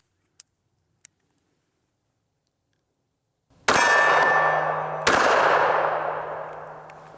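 A Prodigy pistol fitted with an Underworld Arms Cerberus compensator fires two loud, close shots about a second and a half apart, each ringing out with a metallic clang and slow decay, preceded by two faint ticks.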